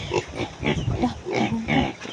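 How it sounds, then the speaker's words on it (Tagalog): Pigs grunt repeatedly in a rough, steady rhythm, close by on a farm. "So naara ang iyang baboy guys."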